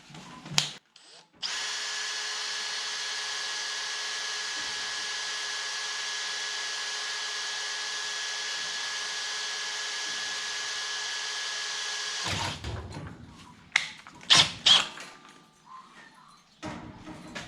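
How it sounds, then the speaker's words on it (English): A power drill with a hole saw whines at a steady high pitch for about ten seconds while cutting holes in a boat console, then stops, followed by scattered clunks and handling noises. "Drill some holes in this."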